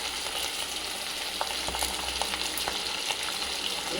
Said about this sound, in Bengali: এখন লঙ্কার গুঁড়ো দিয়ে শুধু একটু নেড়ে